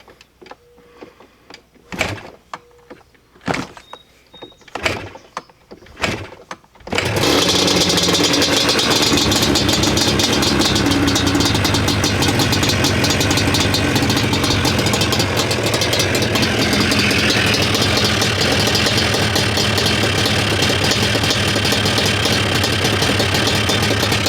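A Yamaha Banshee ATV engine, freshly given a carburetor adjustment and TORS delete, is started after a few brief clicks and knocks, then settles into a loud, steady, continuous idle that runs unbroken to the end.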